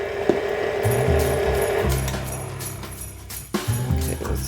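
A mixer motor hums steadily as it beats sour cream pound cake batter in a bowl. The droning whir is close and even, with a brief knock and a short dip near the end before it resumes.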